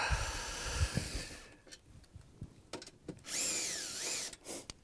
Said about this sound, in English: Use our handy dandy drill, get it the rest of the way out.